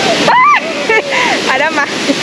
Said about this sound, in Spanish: Pero esa caída de agua que está acá, de verdad que es sumamente hermosa.